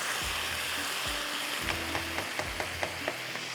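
Boneless chicken with ginger and garlic fries in a pot for pulao, a steady close sizzle with soft low thumps and scattered crackles and spoon scrapes throughout.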